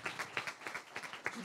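Scattered, fairly quiet applause from a conference audience for people on stage at a talk about rap music, with distinct individual claps in an uneven rhythm.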